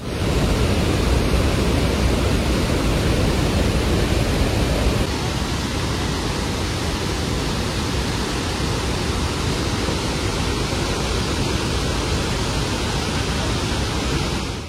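The Iguaçu Falls thunder at the Devil's Throat as a massive, continuous roar of water, loud and unbroken like broad rushing noise, with the tone shifting slightly partway through and no voices.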